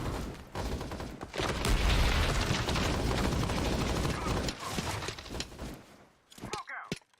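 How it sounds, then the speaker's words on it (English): A loud, rough burst of blast and gunfire noise from the video game Hell Let Loose, which may include a grenade explosion, roars for several seconds before trailing off, with voices shouting alongside. "Frag out! Watch out! Throwing frag!"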